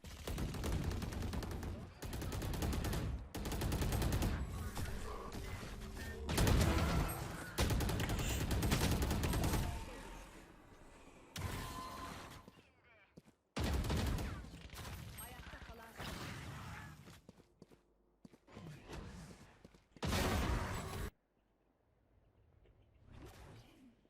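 Rapid gunfire in the tactical shooter Valorant, with loud bursts and sprays of shots broken by brief pauses and whooshes, close and dominant, with a voice talking at times beneath the shooting.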